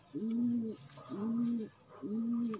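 Striped pigeon cooing three times in a steady rhythm, each coo a drawn-out, rolling call close by with short pauses between, faint chirps in the background.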